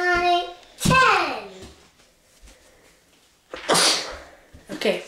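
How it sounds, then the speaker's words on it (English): One sharp, loud sneeze from a person bursts out close by during a hide-and-seek game, set between a voice and further talking and breathy noise. "Okay, I sneezed."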